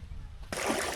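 Water splashes loudly into a cool river as someone bathes at a riverside eco park in Palawan, a sudden broad burst of sloshing that begins halfway through, following quieter ambient noise.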